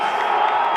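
A lacrosse crowd at a Colorado versus Colorado State conference game roars in a dense, steady wave of cheering and shouting, loud and close throughout the short burst.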